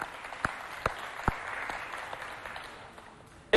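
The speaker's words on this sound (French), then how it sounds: "on l'applaudit bien fort, il nous rejoint" Audience applause for a technical director at a children's holiday event, a soft continuous patter of distant clapping punctuated by a few sharp nearby claps.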